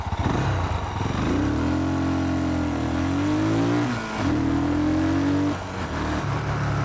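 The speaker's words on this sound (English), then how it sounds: "From a standing start, obviously if you are sitting at the traffic lights and you want to pull the bike away" A Mash 400 motorcycle pulls away from a standing start at traffic lights, engine revving loud and close with rising pitch through the gears and a brief dip at a gear change, no talking.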